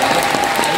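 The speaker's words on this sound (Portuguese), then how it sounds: "Eu quero ver aplausos" A theater audience applauds at the final performance of a Charlie and the Chocolate Factory stage show, a brief, loud, dense burst of clapping from many hands.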